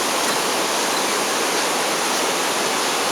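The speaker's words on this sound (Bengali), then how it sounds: "ঝর্ণা, সাসপেনশন ব্রিজ ক্রস করছি।" A waterfall near a suspension bridge in the Dooars roars as a steady, broadband rush of falling water, loud and continuous with no voices.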